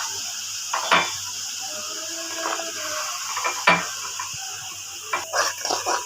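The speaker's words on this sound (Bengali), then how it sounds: "আমি কিছুক্ষণ কষিয়ে কাজু আর কিশমিশটা দিয়ে দিচ্ছি" Spices with cashews and raisins sizzle gently while being sautéed in a kadai for khichuri, with a few scraping stirs of a utensil against the pan and a faint steady hiss in the background.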